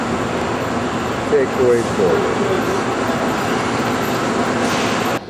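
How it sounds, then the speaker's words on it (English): Steady loud rumble of a train running along rails in Poland toward Krakow, heard from inside the carriage with constant rolling noise and a brief voice speaking over it. "riding on the train, zooming along on our way to Krakow"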